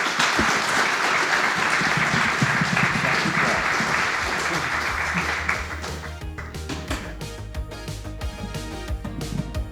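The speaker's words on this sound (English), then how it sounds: "Give them a round of applause" Audience applause after a presenting group at a marketing talk, loud dense clapping for about five seconds, then thinning into scattered claps with some music-like tones underneath.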